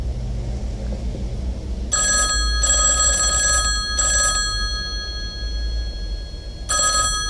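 A telephone ringing tone sounds in bursts after a number is dialed: four electronic rings with uneven gaps, played over a constant low rumble.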